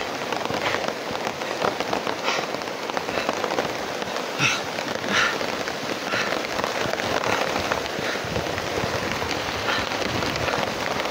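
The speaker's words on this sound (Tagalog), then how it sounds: "Kasi ang lakas ng ulan." Heavy rain pours steadily and loudly throughout, a dense continuous hiss of drops hitting surfaces, with no voices.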